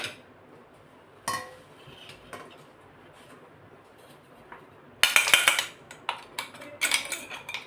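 A spoon scrapes fresh coconut cake batter out of a mixer jar into a large bowl, making sharp metallic clinks and scrapes: a few isolated hits early on, then a dense run of clatter near the end.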